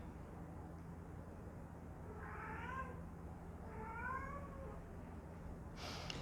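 A pet cat meows twice indoors, two faint, drawn-out, rising calls spaced a second apart over a low background hum, with no talking.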